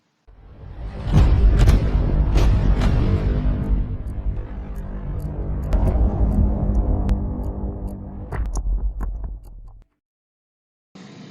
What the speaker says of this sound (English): Sorry about the noise from the gas forge